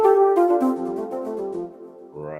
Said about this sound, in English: So like this is one pad that's called flute pad.